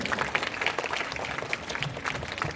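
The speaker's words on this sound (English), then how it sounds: "let's give a huge round of applause for Nitya." A hall audience applauds during a speech, giving a dense, steady patter of many hands that sounds fairly soft and somewhat distant, with no talking over it.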